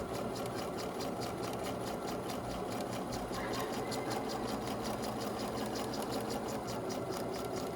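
A sewing machine runs steadily, stitching a centered zipper alongside tape, with a continuous close mechanical whir and rapid needle rhythm throughout.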